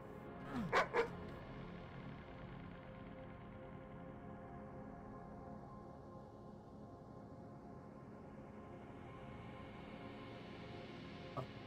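A dog in the Doom mod MyHouse.wad barks a couple of times in quick succession near the start, then a steady droning game ambience carries on alone.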